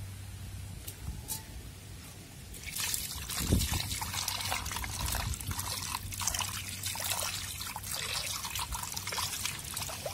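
Water is poured to dissolve a ground paste of cumin, fennel, pepper, turmeric and poppy seeds for a drumstick-leaf and anchovy soup. A light trickling pour starts partway in and continues steadily to the end, with a soft clunk along the way.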